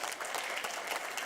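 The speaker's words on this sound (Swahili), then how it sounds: "Tumkaribisha na makofi jamani." A crowd gives brief, dense applause to welcome a regional district commissioner at the launch of a polio vaccination campaign. The clapping is continuous and even throughout, with no talking.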